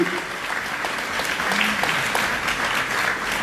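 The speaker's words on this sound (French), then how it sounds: "vos applaudissements pour Fahim avec ces grands acteurs que sont Gérard Depardieu et Isabelle Nanty" Steady audience applause at a French film music festival awards ceremony, dense and continuous for a few seconds with a faint voice or two underneath.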